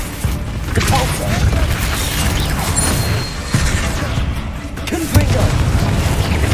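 A Repulso spell cast during Hogwarts Legacy combat on hard mode: a dense, continuous magical whoosh and rumble with sharp percussive jolts partway through and near the end, loud and full throughout.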